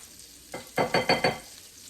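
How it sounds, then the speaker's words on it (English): Cauliflower hitting hot bacon grease in a pan, a soft stirring scrape followed by four bright crackling bursts of sizzle, close and fairly loud, with no voices. "So I added some bacon grease. I'm just going to cook this all in the same pan."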